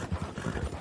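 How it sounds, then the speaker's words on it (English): Horse hooves clip-clop at a quick trot through the streets of Saint Denis in the video game Red Dead Redemption 2, with several rapid, close hoofbeats and no talking over them. "Get on the horse, we gotta get out of Saint Denis."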